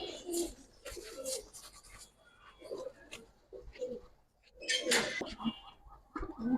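Giribaz pigeons coo in uneven bursts at close range, with louder clusters near the middle and end and a possible murmur of voices among them.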